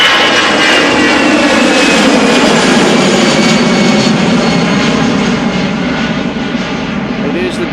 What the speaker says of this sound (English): It is the daily flight of the Emirates A380 back to Dubai.